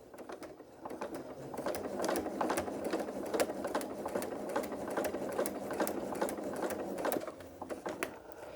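A sewing machine stitches a log cabin quilt block, running as a steady mechanical hum with a quick, even ticking of the needle throughout. No one speaks.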